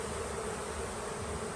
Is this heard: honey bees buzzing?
yes